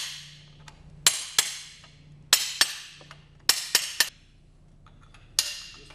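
Sharp metallic taps of a hammer striking an aluminum drift against a turbine, single and paired, at irregular intervals with ringing decays and quiet gaps between.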